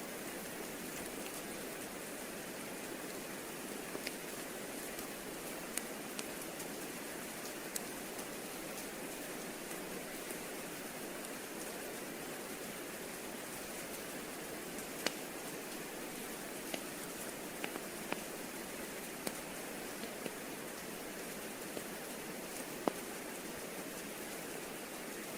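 Rain weather in the Pokemon Silver video game, a steady broadband hiss of falling rain running throughout with occasional faint clicks on top, no talk.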